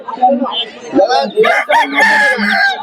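Chickens and ducks at a busy poultry market give off strained crowing and clucking calls, close and fairly loud, mixed with crowd murmur and nearby voices.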